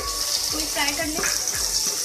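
Onions frying in a pan with a soft, steady sizzle, punctuated by a few stirring scrapes and clicks, fairly faint and close.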